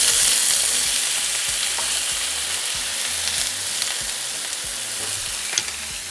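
Three potatoes frying in hot oil in a cast iron pan, a loud continuous crackling sizzle that begins strong and eases slightly over several seconds, with scattered pops.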